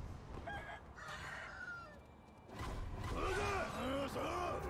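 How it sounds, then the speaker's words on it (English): A rooster crows in the video game Sekiro, two or three clear, wavering calls rising over steady ambient game noise in the second half, with a voice talking faintly earlier. "Rooster alerted those enemies"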